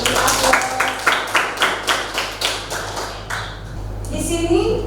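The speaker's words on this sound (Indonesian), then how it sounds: "Bagus, kita beri aplaus." A classroom group applauds after a student's answer, a run of loud, rhythmic claps, about a dozen in quick succession, tapering off with some shuffling and murmur underneath.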